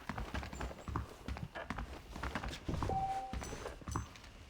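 Horse hooves clip-clop at a walking pace in the Western game Red Dead Redemption, a steady fairly close rhythm of soft thuds with a short whistle-like tone partway through and no talking.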